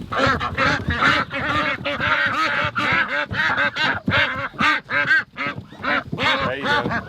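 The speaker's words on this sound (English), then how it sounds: "Yeah, that's a goose right there." Geese and ducks honk and quack continuously at close range while birds are handled on a farm before butchering, the calls loud and overlapping throughout.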